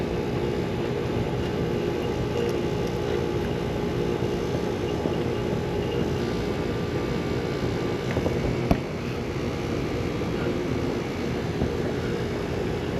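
A vacuum pump drones steadily as it evacuates the refrigerant lines of a rooftop HVAC condenser during installation, a constant loud broadband hum with no break, with outdoor roof ambience and one faint tick.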